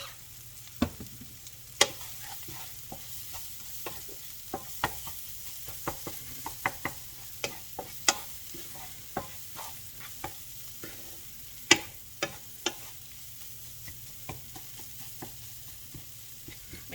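Rehydrated freeze-dried scrambled eggs, seasoned with salt and pepper, fry in a pan with a soft constant sizzle, punctuated by irregular clicks and taps of a utensil stirring and scraping. Nobody speaks.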